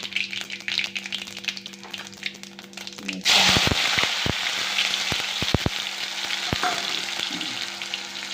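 Mustard seeds, cumin and tomatoes hit hot oil with a sudden loud sizzle partway through, then crackle and pop steadily with sharp spattering bursts; no talking.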